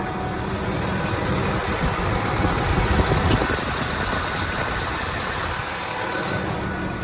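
A farm engine runs loudly and steadily at close range, a continuous broadband mechanical roar that holds even throughout with no voices.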